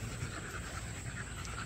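Dogs, American Bully breed, pant steadily outdoors: a faint, continuous rapid breathing under a noisy, hissy background with no talking.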